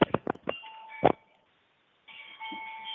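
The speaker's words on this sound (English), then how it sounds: "this time your chimes are louder than you are" Doorbell chimes ring down a caller's phone line, loud, clipped ding-dong tones with short bursts of knocking-like thumps, then a pause and a thinner ringing tone returning, phone-filtered, no talk.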